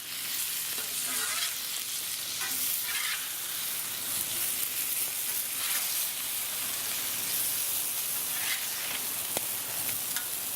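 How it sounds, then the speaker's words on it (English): General Tso chicken pieces fry in oil on a Blackstone griddle, giving a steady, dense sizzle and crackle throughout with scattered pops. "I'm going to continue to fry these all up until they're nice and crispy."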